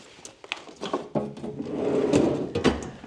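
A drawer on a retired marine mechanic's tool chest slides open, a close metallic rolling scrape that swells and ends with a couple of clunks, no talking.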